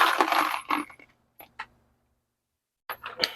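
A dropped 9mm brass cartridge clinks and skitters near a reloading bench, with a burst of small metallic impacts and then a few lighter taps, close by.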